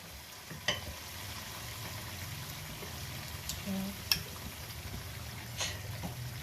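Street-style Pakistani dhaba chicken karahi fries quietly after yogurt is stirred in, giving a soft, steady sizzle with a few light utensil clicks and taps close by.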